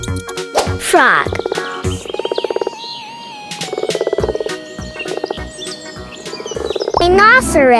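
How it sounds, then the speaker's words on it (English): A frog croaking in a series of loud, close, rhythmic calls with rising and falling tones, heard alone over a musical backing. "Frog."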